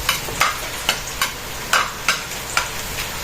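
Garlic, onion and ginger sizzle in hot oil in a pan, with a steady frying hiss broken by regular scraping stirs about every half second, close and fairly loud, with no talk.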